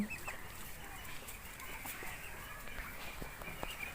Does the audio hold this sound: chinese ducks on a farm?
yes